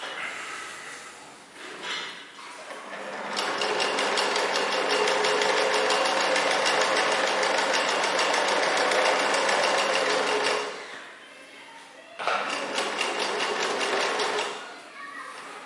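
Sewing machine running a wide zigzag stitch on a belt piece, a loud close rapid buzzing hum in two long bursts separated by a short pause, with faint handling noise before it starts.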